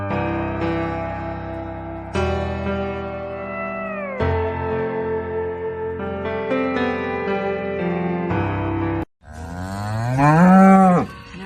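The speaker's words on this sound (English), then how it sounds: "I don't know what's wrong, but my cow keeps crying." A cow moos over and over in long, loud, drawn-out calls close by, with one higher, strained cry at the end.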